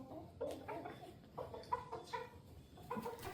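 Silkie chickens cluck softly in short, scattered bursts, close by in a quiet farmyard morning, no talking over them.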